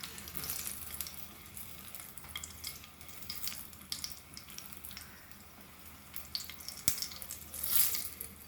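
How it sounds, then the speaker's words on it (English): Chillies sizzle and crackle steadily in a hot pan, a soft continuous frying hiss with small pops, heard up close and fairly quiet. "Fry this nicely."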